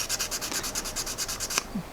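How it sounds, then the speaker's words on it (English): Homemade sprue goo, still a little soft, being sanded on a plastic model car: a rhythmic back-and-forth scrubbing of sandpaper, close and steady, about a dozen quick strokes before it stops. "So let's do some sanding."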